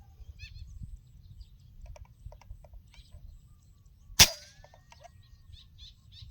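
A single sharp air rifle shot firing a 12-grain slug cracks out once, loud and close, over a steady low hum with faint birds chirping in the background.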